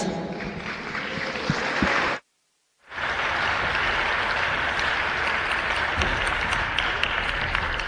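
Applause at a closing session of the AIDS 2018 conference: a large audience claps in a loud, steady, dense wash that cuts out briefly near two seconds, then resumes just as strongly and runs on to the end.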